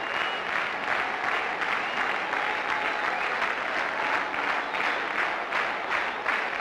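Small cricket crowd at a 1996 World Cup match applauding a batsman's half-century, a steady, even patter of clapping sustained throughout, moderately distant with no voices standing out.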